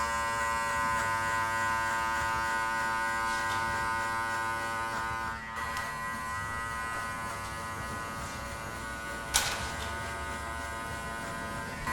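Cordless hair clippers buzz continuously, blade fully open, as they cut the first step of a fade on a client's head; steady close electric drone with a couple of small clicks, no talk.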